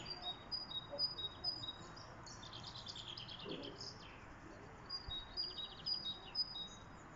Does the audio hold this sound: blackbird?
yes